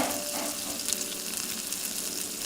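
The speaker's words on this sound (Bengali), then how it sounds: "পেঁয়াজটা আমি একটু লাল লাল করে ভেজে নেব" Onion pieces fry in mustard oil in a wok for a jackfruit and prawn curry, giving a steady, close, even sizzle that runs unbroken throughout with no talking.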